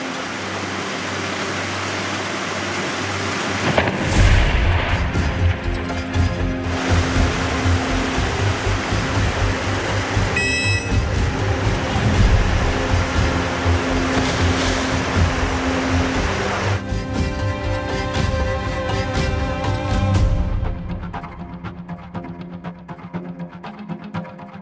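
River rapids at Surdučki buk rush in a steady, loud broadband roar close by, continuing unbroken for about twenty seconds before cutting off.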